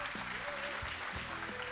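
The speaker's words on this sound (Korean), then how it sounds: "정경호 대표님께 다시 한번 큰 박수 부탁드리겠습니다" Audience applause for a speaker at the close of a sales and negotiation lecture in a hall, a steady wash of clapping heard under amplified voices and a reverberant room tone.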